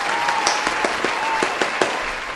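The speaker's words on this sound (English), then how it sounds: "Let's give a round of applause." A few scattered hand claps sound close by for a couple of seconds over a hissy background.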